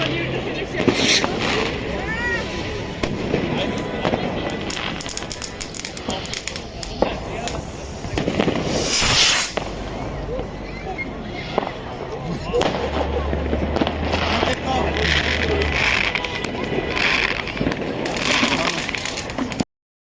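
Fireworks and firecrackers set off by hand at a New Year celebration in Heidelberg, Germany, cracking and booming in dense bursts with crowd chatter and voices throughout.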